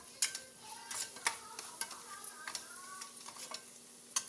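Chicken curry cooking in oil with coriander powder and garam masala, a spoon scraping and stirring the pan in irregular taps and clinks over a faint, steady sizzle, close and fairly quiet.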